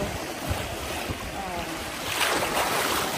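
Strong waves surge at high tide on Shek O Beach in Hong Kong, a continuous loud wash of water with wind noise across the microphone that swells toward the end.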